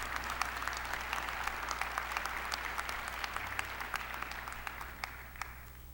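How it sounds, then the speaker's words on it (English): Sustained applause from a theater audience at a 9/11 remembrance ceremony, dense steady clapping that fills the hall for the whole stretch with no speech over it. "Let's give them a round of applause."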